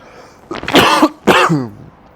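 Two harsh, close coughs in quick succession from a single person, with no talking.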